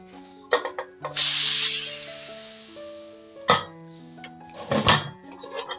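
A pressure cooker is opened after cooking with a metallic clatter of lid and pot, a short burst of escaping steam hiss, then more clinks and knocks.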